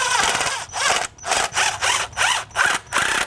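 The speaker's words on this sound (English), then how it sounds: "then we'll tighten down the 3 bolts that are holding it in" A ratchet tightens the three bolts holding a part in place on a bi-turbo Audi engine during camshaft seal and gasket work, giving repeated short bursts of rapid clicking separated by brief pauses, close and clear, with no speech.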